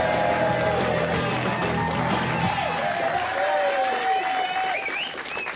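A studio audience on a TV show cheers and claps loudly and continuously, with whistles rising above the crowd noise.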